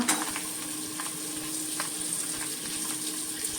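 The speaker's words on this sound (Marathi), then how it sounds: "आता हे जरा परतून घेतलं की याच्यामध्ये घालायचा चिरलेला कांदा" Chopped onion sautés in a hot spiced tempering, giving a steady soft sizzle and crackle throughout with no talking.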